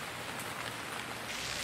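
Steady rain pattering on a public planetary terminal in the sci-fi adventure game Gemini Rue, a continuous close hiss of drops with no voices.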